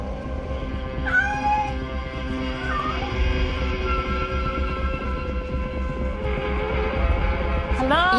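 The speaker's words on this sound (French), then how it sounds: "Le chat était sur la terrasse." A cat on a terrace meows several times, with a sharp cry early on, another a little later and one at the end, heard over a steady droning background.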